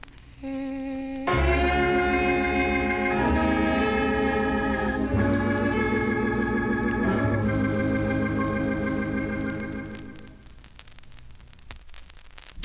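A 1959 doo-wop 45 of "A Friendly Hand" plays with dense sustained harmonies and a steady instrumental backing, loud and continuous before fading near the end over surface noise.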